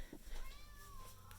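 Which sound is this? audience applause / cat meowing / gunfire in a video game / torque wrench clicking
cat meowing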